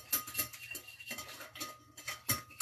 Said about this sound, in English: And then you're just whisking it all.